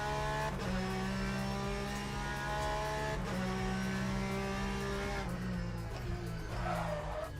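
Cold tyres squeal and skid under a revving race car engine in a sim racing game, a loud, continuous tonal whine with shifting pitch running the whole time.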